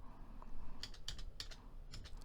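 A few sharp mouse clicks at a computer desk, three or four brief close taps in quick succession over a quiet room tone, no talking.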